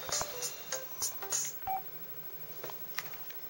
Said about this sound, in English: No, stop ringing phone.